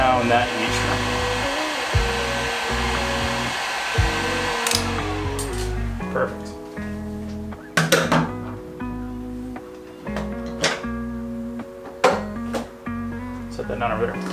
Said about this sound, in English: Grab my heat gun. And melt down that heat